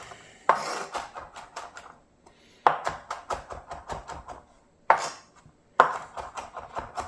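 Fresh ginger is chopped on a cutting board in four quick bursts of sharp knife taps, each a rapid run of close, crisp strikes with short pauses between.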